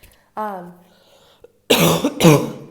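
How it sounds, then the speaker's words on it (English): A short voiced sound is followed after a pause by two harsh, loud coughs close to the listener. "so that's why I keep coughing"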